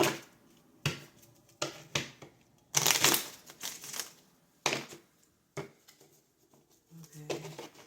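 Tarot cards riffled and shuffled in several short bursts, crisp papery flutters separated by brief pauses, close and fairly loud with no talking.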